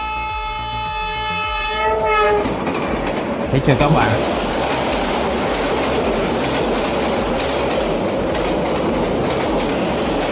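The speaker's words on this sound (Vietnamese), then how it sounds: "Tàu hỏa đến luôn." A train horn blares loudly for about two seconds, then the heavy rumble and clatter of a train passing close by fills the rest, at a crossing on a Vietnamese road, with a brief voice speaking over it.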